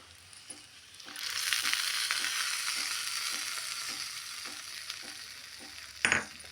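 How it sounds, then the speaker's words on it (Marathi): Hot tempering of asafoetida, urad dal and curry leaves poured onto idli chutney sets off a sudden loud, sustained sizzle that gradually fades, with a sharp burst of crackling near the end. "ही गरम गरम फोडणी आपण या चटणीवर टाकून घ्यायची"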